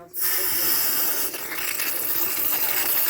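Water sprays hard through the plastic handle of a Ryobi 3100 PSI 2.5 GPM pressure washer to flush out a nesting ant colony, a steady loud hissing rush that starts abruptly and runs throughout.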